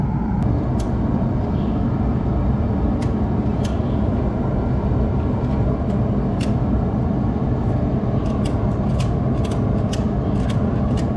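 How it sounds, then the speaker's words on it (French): A ratchet strap is cranked tight during clutch replacement on a Case CS 94 tractor, giving sparse, sharp ratchet clicks over a loud, steady background noise throughout. "l'approche, je vais la faire à la sangle à cliquet"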